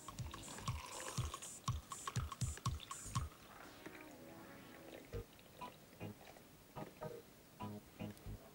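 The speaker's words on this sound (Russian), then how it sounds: "Наливаем нашу смесь в стакан." A drink mixture being poured into a glass in a kitchen, with a burst of rapid clicking and dripping taps that thins into scattered splashes and drips, fairly quiet and close.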